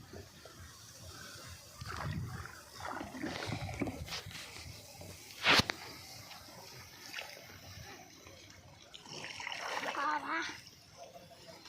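Boat pushing through floodwater beside rural electricity lines on a service trip, with irregular water splashes and one sharp, loud splash midway, backed by faint murmuring voices.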